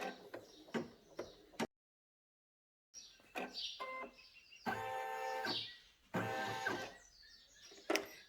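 An embroidery machine stitches fabric for a plush fox comforter, its fast mechanical rattling bursts stopping and starting, with quiet clicks between runs and a short silent pause.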